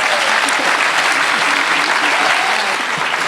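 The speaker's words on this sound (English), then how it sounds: "that deserves a round of applause" Audience applause in a theatre at an awards event, a dense, steady wash of many hands clapping that fills the whole stretch, loud and close with no talk over it.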